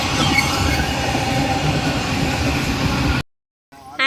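Train running on rails during a passenger journey, a loud steady rumble with rhythmic wheel clatter that cuts out abruptly near the end, followed by a brief quieter interior sound.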